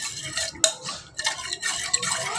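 A spoon swirls garam masala into a little water in a bowl, giving soft liquid stirring with light clinks against the bowl, close and fairly quiet.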